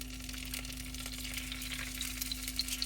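Eggs fry in a pan in an RV kitchen, giving a soft, steady sizzle with faint crackles and pops, heard close and quietly and with no voices.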